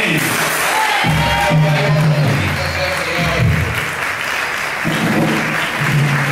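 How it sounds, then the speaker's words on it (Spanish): Church congregation claps during a sermon, loud sustained applause filling the room, with a voice speaking over the clapping at points. "Pues sí, un aplauso más fuerte, que sonó bastante."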